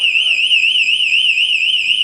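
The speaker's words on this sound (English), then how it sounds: "If a firefighter goes down in a house fire or anywhere else while he's wearing this air pack and this is on, if it sits still for more than 20 seconds, it'll alarm." Firefighter air pack motion alarm, a loud, piercing electronic tone warbling rapidly and continuously, sounding alone and close.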